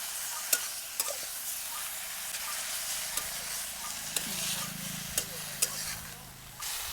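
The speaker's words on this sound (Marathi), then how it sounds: "कोथंबीर मस्त परतून घ्यायची" Coriander leaves are sautéed in a pan, with a gentle continuous sizzle punctuated by regular light taps and scrapes of a spatula.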